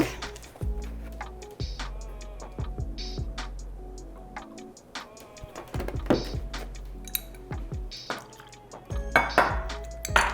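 Pumpkin muffin batter with milk being stirred in a bowl, with repeated clinks and scrapes of a utensil against the dish in an irregular, busy rhythm, close and fairly loud.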